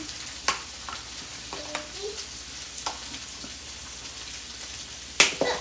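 Minced onion and garlic sizzle in a pan for beef fried rice, a steady soft hiss broken by scattered stirring clicks and a sharp scrape near the end, with no talking.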